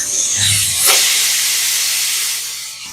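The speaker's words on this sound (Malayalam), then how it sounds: "5 വിസിൽ വന്നിട്ടുണ്ട്" A pressure cooker cooking beef on a stove lets out a loud, continuous steam whistle, a sharp hissing jet close by that holds steady for about three seconds before easing off.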